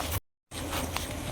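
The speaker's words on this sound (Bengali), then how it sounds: "এক ধরনের মাছির শব্দ আপনারা শুনতে পাইতেছেন নিশ্চয়ই," Steady insect buzzing of flies and bees around yellow flowers in a field, close and continuous, broken by a short silent gap.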